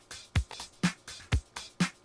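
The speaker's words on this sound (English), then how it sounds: "I'm putting it on track 2 where it has the house beat." A house beat loop plays dry with no sidechain pumping: punchy kicks alternate with bright snare or clap hits in a steady, quiet, repeating rhythm.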